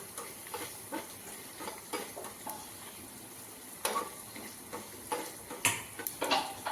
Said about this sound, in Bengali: হয়ে গেছে ভাজা, দেখো ডালগুলো সুন্দর লাল লাল হয়ে গেছে দেখো